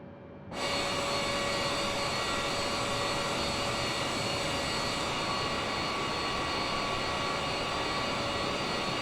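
Aircraft engine in a flight simulator game, a steady loud drone with tonal whine that starts abruptly after a brief quiet moment and holds continuously without talk.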